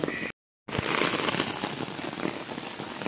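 Heavy rain pours down on someone walking to a market, a dense, steady hiss of drops close around, broken by a brief moment of silence near the start.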